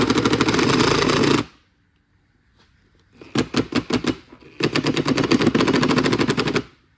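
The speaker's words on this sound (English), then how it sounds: "Your impact gun is caught up there." Air impact gun undoing a series of screws on a 2013 Ford Taurus during evaporator replacement, a loud rattling burst, a pause, then several short hammering bursts and a long sustained run up close.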